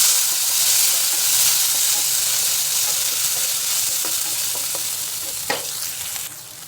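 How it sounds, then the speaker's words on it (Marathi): Tomato frying in a hot mustard-seed tempering, a steady close sizzle with faint stirring clicks and a few sharper spatters near the end, no talking. "टोमॅटो परतलाय छान"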